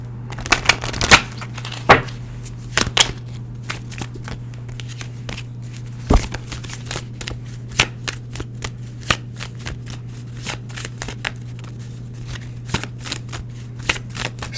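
A Rebel Deck Couples Edition tarot deck is shuffled close up, with a continuous run of papery riffles and slaps over a low steady hum.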